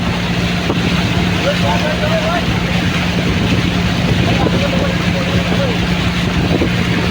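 A steady engine drone runs under rushing wind and water noise as a motorboat speeds along at about 60 km/h toward Dayapur, with voices faintly mixed in.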